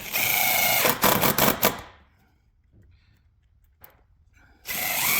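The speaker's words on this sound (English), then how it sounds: "I decided just to pre-drill them." Power drill bores through 1/8 inch flatbed steel on a 2006 F-250: a loud whine chopped into several short bursts, then near-quiet with faint clicks, before the drill roars up again at the end.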